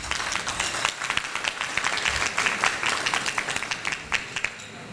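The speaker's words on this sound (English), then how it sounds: "I can eliminate that applause by telling you the first time I went to Israel was only 2 years ago." Audience applause at a community annual dinner, a steady dense wash of many hands clapping at moderate volume, continuing evenly throughout without voices.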